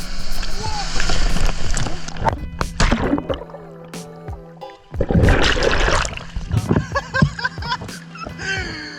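Kayak out among waves off the coast of Brittany, with splashing and gurgling water and gusts of wind buffeting the microphone, loud and close. People talk over the water noise throughout.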